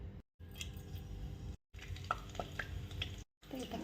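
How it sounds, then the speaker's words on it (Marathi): Garlic crushed by hand for a vegetable masala: uneven, close thuds and crunches in short bursts, separated by a few brief silent gaps. "लसूण पण मग असा ठेसून घ्यायचा थोडा चव छान येते भाज्यांना"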